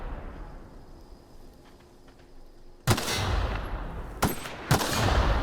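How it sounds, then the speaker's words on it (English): Gunfire in the sci-fi role-playing game The Outer Worlds: after a quiet, low ambient hum, a loud sudden blast erupts, followed by two more sharp shots spaced about half a second apart, each trailing into rumbling noise. "so I guess we could try shooting them"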